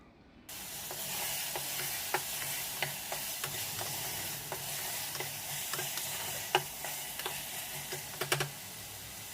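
Tomatoes and ginger garlic paste fry in a pan for mutton gravy, a steady close sizzle broken by sharp scrapes and clicks from stirring.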